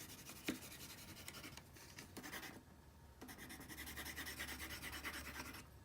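Soft, steady scratching of a colored pencil coloring on paper, close and quiet, with continuous back-and-forth strokes and no talking.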